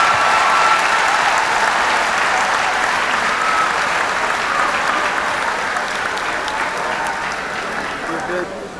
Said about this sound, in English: If you hear that word, give God a clap offering